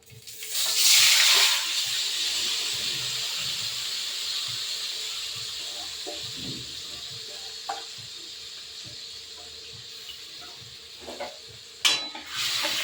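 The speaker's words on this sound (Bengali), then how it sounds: "দিয়ে দিলাম একটু কালো জিরে কালো জিরেটা ভালো করে তেতে উঠলে আমি এটা দিয়ে দেবো" Nigella seeds hit hot oil for a raw hilsa curry with lemon juice. A loud hissing burst opens it, then settles into a long, steady sizzle, with a couple of utensil clatters near the end.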